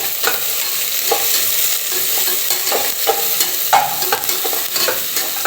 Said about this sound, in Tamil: இப்போ நான் முட்டைக்கோஸும் கொடை மிளகா ரெண்டையும் நான் வந்து கட் பண்ணி வச்சுருக்கேன்.